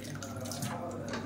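Water is poured into thick cooked horse gram porridge, a soft, steady trickling and splashing at close range, fairly quiet.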